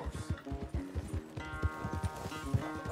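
Horse hooves clip-clopping in the video game Red Dead Redemption 2, a quick steady run of soft thuds at close range over a faint background.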